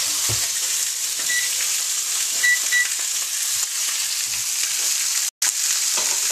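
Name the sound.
pork shoulder blade steak frying in a pan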